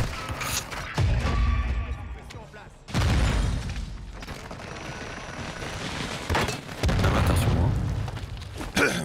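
Heavy gunfire and booming explosions in the battle royale Warzone 2 come in loud bursts separated by brief gaps, with player voices in the mix.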